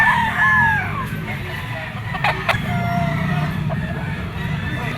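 A gamecock stag, a green-legged bird of Gilmore blood at a pet market, crows with a rising, wavering call early on. Steady crowd murmur and low background noise run underneath, with a few sharp clicks midway.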